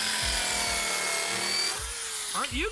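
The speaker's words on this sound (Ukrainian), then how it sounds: "Я ріжу метал." A Rotorazer universal saw cuts through metal, a loud, continuous close grinding buzz with a rhythmic rasping pulse and a rising whine near the end.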